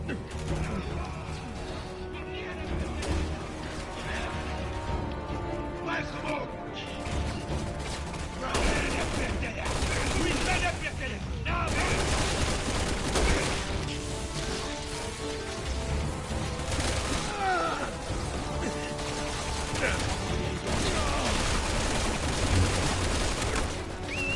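Dense, continuous gunfire and explosions from Resident Evil 6 crackle and roar throughout, with bursts of automatic fire layered over a steady rumble and people talking underneath.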